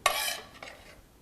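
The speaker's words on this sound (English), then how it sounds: "Now spoon the mixture into serving dishes and place those dishes on a baking tray." A spoon scrapes and clinks as a Greek-style shrimp mixture goes into serving dishes, with one brief scraping sweep followed by a softer second scoop nearby.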